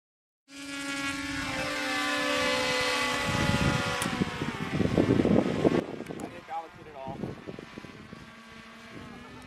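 A model biplane built from XPS foam board flies overhead, its small electric motor and propeller giving a steady buzzing drone that swells and wavers for several seconds at moderate distance.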